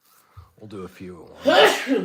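A single sharp, loud sneeze from a nearby person bursts out after a short stretch of speech, with a softer breathy after-sound trailing it.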